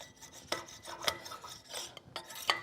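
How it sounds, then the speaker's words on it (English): A tool steel scraper drawn across the surface of a steel welding table in repeated rasping strokes, about five sharp scrapes in under three seconds, close and with no talking. "this is a tool steel scraper designed for this instance"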